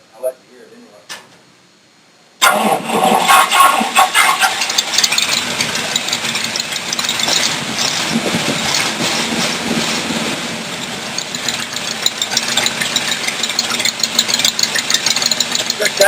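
A rat rod roadster's engine running through a mesh-packed muffler, starting abruptly after brief quiet and settling into a loud, rough, continuous exhaust roar with uneven pulsing, heard up close.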